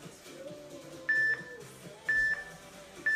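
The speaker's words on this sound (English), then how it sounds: "Don't listen to my timer." A workout timer beeps three times at roughly one-second intervals, short bright electronic tones over faint background music.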